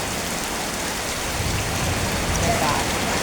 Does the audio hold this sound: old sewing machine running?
no